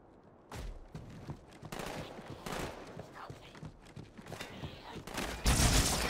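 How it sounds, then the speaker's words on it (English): Battle rifle gunfire in Halo 2 Anniversary on legendary difficulty, fired at a jackal: repeated sharp bursts of shots spread through the scene, with a louder, denser blast near the end. "that jackal took so many bullets from the battle rifle"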